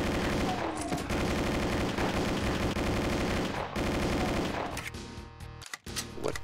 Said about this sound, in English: you can reload one while firing the other one